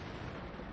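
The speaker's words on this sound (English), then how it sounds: "Fire a shot to blow away his cover" An M6 heavy tank's cannon fires in World of Tanks, a single loud, booming blast with a dense rumbling roar that lasts under a second.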